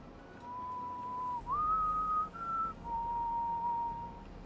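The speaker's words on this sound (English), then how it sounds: "I think your brother is still whistling Savathun's song." A character in the video game Destiny 2 whistles a clear, slow tune alone, a few sustained notes that rise and dip over a faint background hum.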